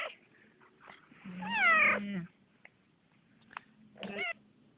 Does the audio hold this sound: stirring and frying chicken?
no